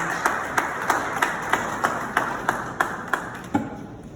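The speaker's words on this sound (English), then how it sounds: "A round of applause, please." A group applauds, with sharp, regular claps standing out over a steady patter of hands, moderately close, with no voices.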